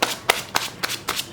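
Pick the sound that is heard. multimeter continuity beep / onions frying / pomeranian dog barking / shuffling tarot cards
shuffling tarot cards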